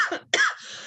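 Two quick coughs up close, the second harsher and trailing into a breathy exhale.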